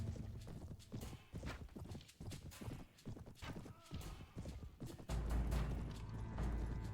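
Horses gallop in Mount and Blade: Warband with a steady, close clip-clop of hooves through the whole stretch, growing louder and heavier in the last couple of seconds, with no talk over it.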